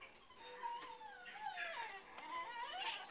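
A pet dog whimpering indoors, thin high whines that rise and fall in a continuous plaintive string, close and fairly clear.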